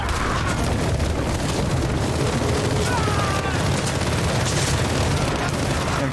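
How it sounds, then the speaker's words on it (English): Dense, continuous gunfire in Call of Duty: Modern Warfare II, with suppressing bursts and booming impacts piling into an unbroken loud roar of battle that runs the whole stretch. "they're putting down some suppressing fire"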